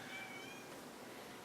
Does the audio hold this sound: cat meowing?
yes